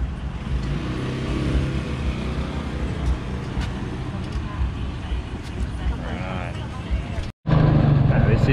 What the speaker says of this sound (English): This is the main highway that runs through the town